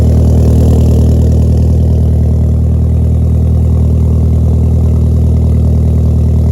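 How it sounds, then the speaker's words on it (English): A Vauxhall Nova GSI Turbo, 31 years old and fitted with a new exhaust, idles steadily with a deep, loud, even burble that holds constant and close throughout. "in all the glory with the new exhaust. It actually sounds like a Scooby a bit."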